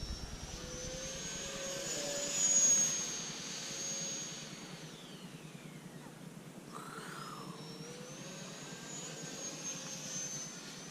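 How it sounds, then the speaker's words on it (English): A Freewing F-22 Raptor RC jet with an electric ducted fan whines steadily at a distance. Its high pitch rises and falls as the jet passes overhead, fairly faint over a low background rumble. "Sounds like a EDF, I guess."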